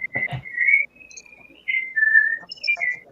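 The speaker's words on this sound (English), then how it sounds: "I was whistling" A person whistles a melodic tune up close, a few sustained and sliding notes in short phrases with brief pauses between them, after a short burst of talk at the start.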